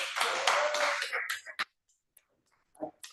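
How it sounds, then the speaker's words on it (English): At an outdoor political rally, the audience gives a brief burst of applause that fades within about a second and a half into a few scattered claps and taps. "Let me hear a round of applause"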